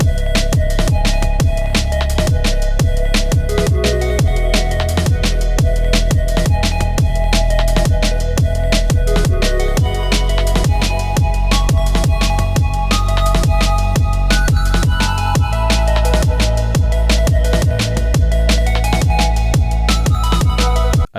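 A synth melody for melodic drum and bass, made with free plugins, plays loud and dense over punchy, steady drums, with a rhythmic, repeating note pattern that runs without a break.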